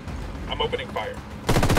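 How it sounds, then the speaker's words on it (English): Gunfire in the tactical shooter game Ghost Recon Wildlands, a loud dense burst of rapid shots breaking out abruptly near the end, after a stretch of quieter game ambience with radio-style voice chatter. "I'm opening fire."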